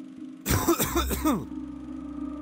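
A single harsh, throaty cough, close and loud, breaking into a couple of rough bursts before fading to quiet background hum.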